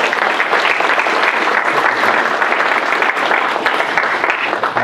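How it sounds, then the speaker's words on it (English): Dense, steady applause from a forum audience for panel presenters, a loud continuous wash of many hands clapping with no talking on top. "let's give our presenters a round of applause once again."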